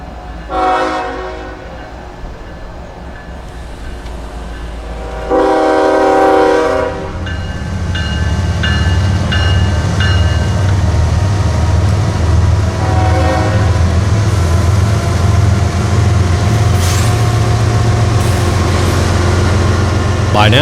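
A heavy 7,300-ton freight train rolls slowly past on a hill, its horn sounding in repeated blasts over a deep, steady rumble of locomotive engines and wheels, and a voice is heard speaking at times.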